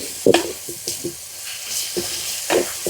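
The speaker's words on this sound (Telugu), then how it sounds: "నూనె అయితే కాగిపోయింది. సన్నగా తరిగిన పచ్చిమిరకాయలు, కరివేపాకు వేసుకుందాం." Sliced green chillies, curry leaves and onions dropped into hot oil for a chicken curry, giving a crackling sizzle with sharp spitting bursts and stirring clatter, close and fairly loud, no talking.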